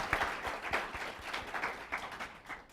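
Light applause from a small audience at a talk on care in America, a thin patter of overlapping claps that keeps steady throughout at moderate loudness, with no talking.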